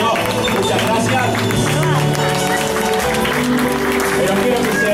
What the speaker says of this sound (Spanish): quiero que se redoble un aplauso